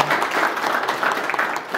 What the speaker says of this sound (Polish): Brawa dla drucha Tadeusza